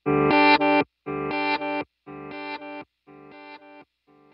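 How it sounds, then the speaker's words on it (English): Electric guitar through a Line 6 Helix glitch delay with reverse and octave character: four short stuttering chord phrases repeat at even intervals, each a little quieter, then a faint fragment trails off. "the glitch delay, it has become near and dear to my heart"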